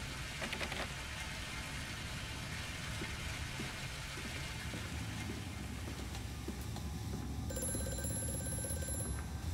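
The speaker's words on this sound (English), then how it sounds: "Fucking phone." An old-style telephone bell rings late in the horror video game Amnesia: A Machine for Pigs. It is a faint repeated ring heard over a low, rain-like background hiss.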